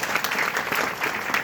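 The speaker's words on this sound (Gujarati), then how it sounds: "તાળીઓથી એમને વધાવીએ" Audience applause at a devotional satsang gathering during a Bhadarva festival, a short burst of dense, fairly loud clapping with no pauses.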